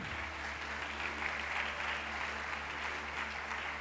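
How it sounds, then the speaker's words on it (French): Audience at the E-Commerce Awards 2014 prize ceremony applauding the jury president as he is called up, a fairly faint, even stretch of crowd clapping under a low steady hum from the hall. "je vais vous demander d'applaudir très très fort Jean-Philippe Marazani"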